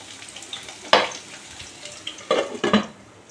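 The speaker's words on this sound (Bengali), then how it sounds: "আলুটা লাল করে ভেজে নেব আমি কিন্তু প্রথমে কোনো হলুদ কিংবা লবণ দেইনি প্রথমে ভেজে নেব" Potatoes frying plain in a pan, stirred now and then. A soft continuous sizzle is broken by a sharp utensil scrape near one second and two more clattering stirs close together near the end, with no voices.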